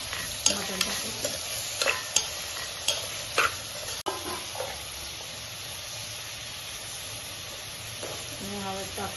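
Mutton hits a pan of frying tomato gravy, bringing a run of sharp stirring scrapes and clacks over a steady sizzle, which then settles into a quieter crackle.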